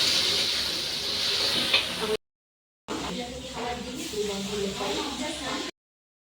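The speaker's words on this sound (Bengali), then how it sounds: "মাছ ভাজা হচ্ছে এখন" Fish frying in a pan in a home kitchen, cooked for a puja, gives a steady broadband hiss and sizzle, cut by a short silent gap before the frying continues.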